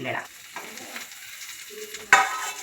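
Capsicum and chopped vegetables being stirred in a hot pan for homemade shawarma, with soft sizzling and scraping of the spoon throughout and a louder clatter near the end.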